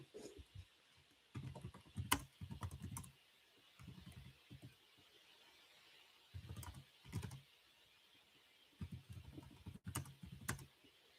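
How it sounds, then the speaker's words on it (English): Quiet bursts of keystrokes clatter on a computer keyboard, arriving in short clusters separated by brief pauses, close and otherwise alone. "I'm gonna type in billionaires."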